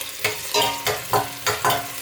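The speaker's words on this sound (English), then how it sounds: "Just give it a stir and wait a little bit" Onions are stirred in a hot cooking pot for vegetable okra soup, giving about six rhythmic scraping strokes over a steady sizzle, close and loud with no talk.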